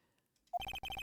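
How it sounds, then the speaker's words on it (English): Phone ringtone in a video game: a short electronic blip, then two quick bursts of rapid trilling rings, crisp and close. "I heard a phone ring just now."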